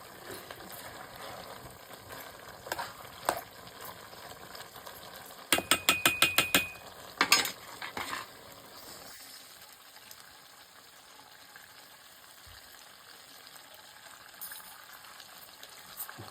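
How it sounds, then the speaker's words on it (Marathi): Country chicken sizzles and simmers in a pot over a wood-fired stove: a low, steady frying hiss, broken midway by a quick cluster of sharp metallic clinks and stirring knocks, then a quieter bubbling simmer. "त्याला ते पाणी फिरवून जिरवून शिजवायचं"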